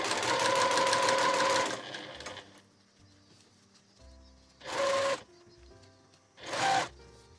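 A sewing machine stitches blouse fabric around a curve, with a long loud run of rapid stitching followed by two shorter bursts separated by quiet pauses.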